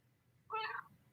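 A pet cat gives a single clear meow lasting about half a second, close and fairly loud against a quiet room.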